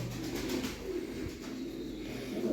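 Soft, repeated low cooing of pigeons over a steady background hum, with no talking.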